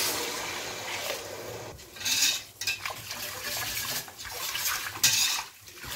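One liter of cold water pours and splashes into a metal pot of lamb stew in a few uneven surges, with faint clinks of cookware nearby.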